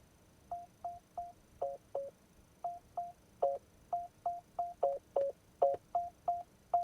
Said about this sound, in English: Parking, you can set warning tones.